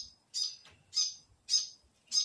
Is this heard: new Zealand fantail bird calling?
yes